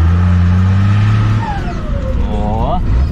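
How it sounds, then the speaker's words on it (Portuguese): A truck's engine is revved hard from a standstill in a launch, a loud low rumble building as the pitch rises and climbs, with people talking over it. "nós vamos dar uma arrancada aqui, galera, pra ver se vai fazer barulho"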